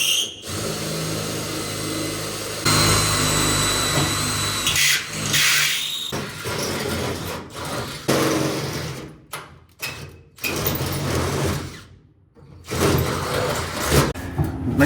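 A power drill bores holes through the metal of a drag-and-drive trailer hitch, whirring loudly in long sustained runs broken by short pauses and sharper bursts near the end.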